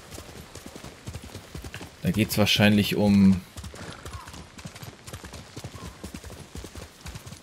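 Horse hooves clip-clop in a steady trotting rhythm in the samurai video game Ghost of Tsushima, a loud close burst rising and fading within a few seconds, with someone talking over it before and after.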